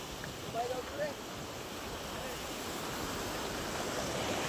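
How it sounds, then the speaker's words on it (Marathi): Water pours and falls steadily at a small local waterfall or outflow after the level has dropped, a continuous broadband rush close by with wind buffeting the microphone and no voices. "कसं पाणी येतंय, इकडनं पाणी असं खाली पडतोय."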